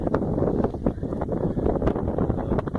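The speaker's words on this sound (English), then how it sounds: "And the wind is just atrocious." Strong blizzard wind roars steadily against the microphone during a heavy snowstorm, a constant loud rushing buffet with gusty swells and no pauses.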